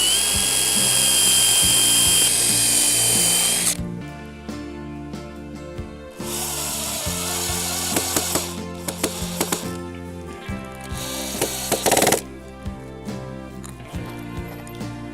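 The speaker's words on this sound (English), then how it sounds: "And then I'm ready to drill." A power drill on a wooden raised garden bed, with a loud steady whine at first, then a series of short, whirring bursts and knocks of varying length.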